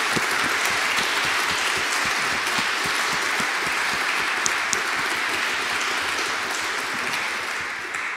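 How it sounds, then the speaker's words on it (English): An audience in a cathedral breaks into sustained applause, a dense, even wash of clapping that carries on without a break and fades slightly toward the end, with no speech over it. "So if we can give Colin a final round of applause,"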